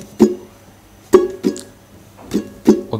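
A ukulele is strummed with downstrokes on the bridge chords of a Hindi song: about five separate bright strums, spaced unevenly with short decays and quiet gaps between them, close and clear.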